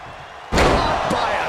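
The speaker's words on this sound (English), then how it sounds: "Drop kick hits the mark." A drop kick lands on Piper Niven in the WWE 2K24 wrestling game, a sudden loud slam that jumps out of quieter arena noise and rings on, with a second smaller thud soon after.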